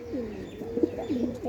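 Caged male pigeons coo close by in rising and falling throaty phrases, with several overlapping calls over quiet background.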